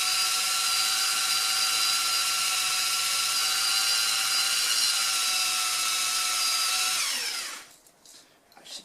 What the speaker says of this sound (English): just gently let the drill do its work.